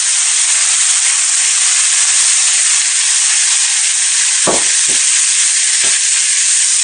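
Cloves, black cardamom and chopped onion fry in butter in a pan. A loud, steady sizzle lasts the whole time with a few brief knocks partway through, and no one speaks.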